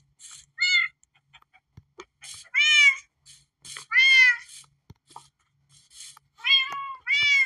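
Several cat meows from Minecraft, short synthesized mews in a sparse sequence of about five calls with quiet gaps and faint game clicks between them.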